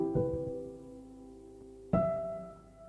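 Two soft, wavering keyboard-like chords, each struck and left to decay, with a wobbly, slightly detuned lo-fi tape quality and faint hiss.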